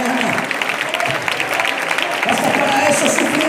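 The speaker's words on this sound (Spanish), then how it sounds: "que por favor las mueva y le dé un aplauso a él esta mañana" Congregation applauding in a church service, continuous dense clapping from many hands filling the room, loud and steady, with some voices mixed in.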